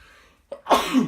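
One sharp, explosive sneeze from a person indoors, a quick intake followed by a loud burst that trails off, close and alone.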